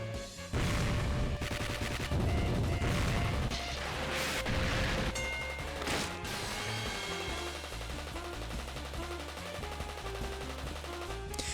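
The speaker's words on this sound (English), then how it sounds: "Rocket-like objects flew at Rena from all sides." A barrage of remodeled bottle rockets in the game Higurashi erupts as a loud crackling, popping volley for several seconds, then gives way to background music with scattered sharp hits.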